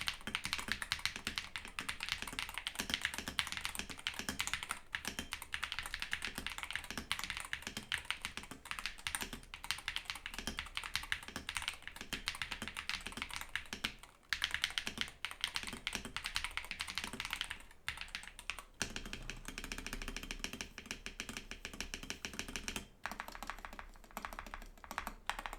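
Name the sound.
mechanical gaming keyboard typing sound test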